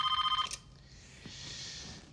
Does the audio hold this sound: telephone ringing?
yes